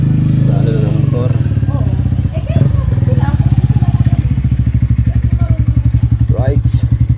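A motorcycle engine chugs nearby with a rapid, pulsing beat, steady and loud throughout, while someone talks over it.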